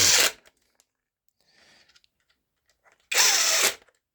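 A powered screwdriver drives screws while something is being assembled, two short loud whirring bursts at the start and near the end, separated by quiet handling clicks and faint rustling.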